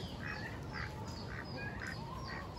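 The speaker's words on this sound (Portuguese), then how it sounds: "Olha o pato. Olha o marrequinho lá," A duck quacks repeatedly in short, evenly spaced bursts in a backyard in the Amazon where chickens are raised, moderately distant under a constant background hiss.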